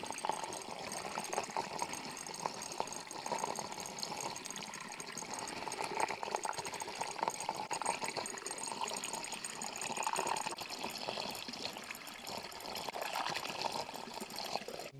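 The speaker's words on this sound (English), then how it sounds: "now we're filling our 1/2-gallon containers" Cider running through a safety siphon with a shutoff into half-gallon containers, a continuous close trickling and gurgling pour that holds steady throughout.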